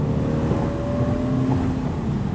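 A 2000 Porsche 986 Boxster S with its mid-mounted engine pulls strongly, a steady rising engine drone with a whining tone layered over road and wind rush, heard from inside the car without talk.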